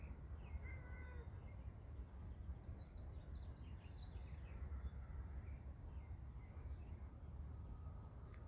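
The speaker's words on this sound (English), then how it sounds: "I can definitely hear lots of birds." Birds in sunny backyard trees give faint, scattered calls and chirps, including crow-like caws, heard from a distance over a steady low outdoor rumble.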